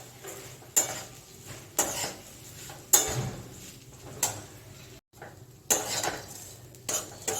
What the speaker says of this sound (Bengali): এই যে চিড়াগুলো আমি দিয়ে দিলাম।